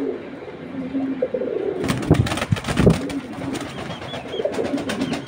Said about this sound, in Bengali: রানিং বাচ্চা রেখে আসছে কবুতরটা।